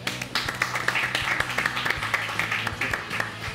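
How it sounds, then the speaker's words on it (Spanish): A studio audience claps to welcome a Haidong Gumdo martial arts master onto a talk show, the individual claps sharp and distinct at close range over a low hum of background murmur. "Vamos a recibir con un aplauso al maestro Pablo Figueroa."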